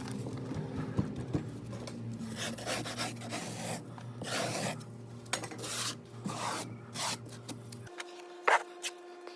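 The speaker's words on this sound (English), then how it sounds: "here I'm just using a modified spoon to do what's called cutting down" A modified spoon scrapes and rasps across foundry sand in a mold during cutting down, giving repeated gritty strokes of varying length, close and fairly quiet, ending in a short pause and a few final scrapes.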